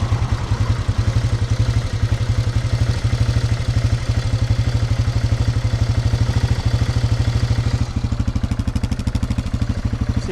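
An old 4x4 ATV engine idles close by with a rapid, even putter of loud mechanical pulses and a metallic clatter, running steadily with no talking.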